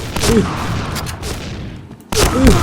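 Gunfire in the shooting game Point Blank: a few sharp shot bursts near the start and again near the end, separated by a quieter stretch of game noise.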